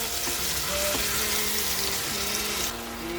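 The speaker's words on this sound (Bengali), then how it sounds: "টমেটোটা বেশ কষে এসেছে" Grated tomato sautés in a pan for an olkopi (kohlrabi) curry, giving a steady, close sizzle and crackle that stays even throughout. Faint clinks of a spoon stirring sound along with it, and no one speaks.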